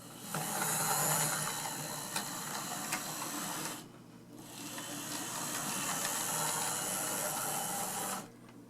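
A Tyco 4-6-0 Ten Wheeler model train, assembled from a kit, runs slowly on a test track, giving a steady close mechanical whir and gear rattle that stops briefly midway and then resumes.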